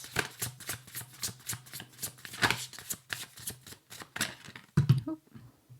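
Tarot cards shuffled by hand in a steady run of quick riffling flicks and slaps, close and fairly quiet, with a final few louder card taps near the end and no talk.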